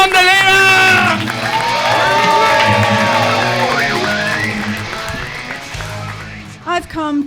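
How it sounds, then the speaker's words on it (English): An audience welcomes a comedian onto a Melbourne stand-up comedy stage with sustained applause and cheering, loud and close, mixed with whoops and a voice speaking over it, fading toward the end before speech returns. "Let's get an applause now."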